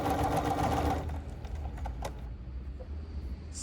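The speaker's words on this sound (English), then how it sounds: "we would stitch until that red dot and the arrow line up" Bernina 3 Series sewing machine stitching an automatic buttonhole runs in a fast rhythmic burst for about a second, then stops, leaving faint clicks and quiet mechanical handling.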